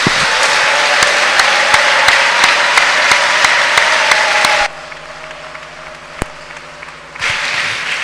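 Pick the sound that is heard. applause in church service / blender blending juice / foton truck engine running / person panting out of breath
applause in church service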